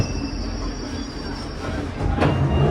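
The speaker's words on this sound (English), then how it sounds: "we're going to take this train here down to Stockwell" A London Underground Northern Line train runs toward Stockwell with a steady rumbling roar, rising in loudness near the end, with a brief squeal from the wheels and a high whine overhead.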